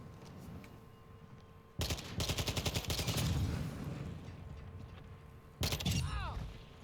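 A Semtex grenade blast and bursts of automatic gunfire in Modern Warfare 2's DMZ mode, with a sharp explosion followed by rapid repeated shots, then another loud burst near the end over a low game ambience.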